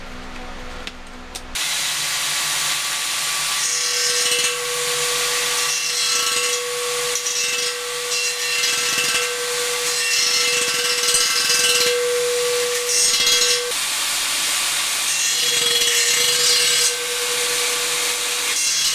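A power tool cuts a small slit down the side of a metal part for a forge build, a loud, sustained grinding whine after a short quiet start, holding steady with slight pitch shifts.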